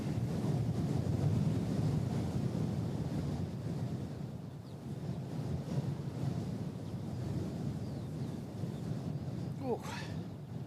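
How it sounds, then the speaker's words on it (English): A strong wind blows steadily across Christchurch Airport, a constant mid-level roar with a thin whistle rising near the end. "that wind decided to just pick up again"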